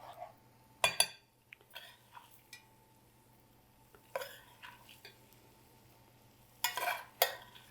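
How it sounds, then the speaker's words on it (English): A spoon scraping and stirring brunch batter in a bowl during Easter baking, with a few sharp clinks and scrapes in short bursts against a quiet kitchen with a steady low hum. "Just stir it up."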